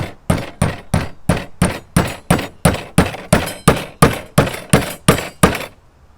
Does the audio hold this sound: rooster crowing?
no